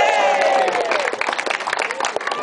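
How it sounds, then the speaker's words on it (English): Festival crowd outdoors at the Clun Green Man Festival applauding and cheering after a performer's act, a dense wash of clapping with whistles and voices over it, fairly loud and steady before thinning out. "Let's give him a big round of applause."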